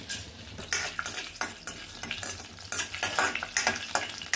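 Chana dal poured into a pan, rattling with repeated bright metallic clinks and scrapes of a spoon over a light sizzle, close and uneven.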